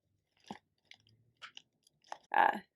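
Koikeya Don Tacos crunchy corn tortilla chips being chewed close up, a few sharp crunches spaced out and then a louder final bite, with no talking.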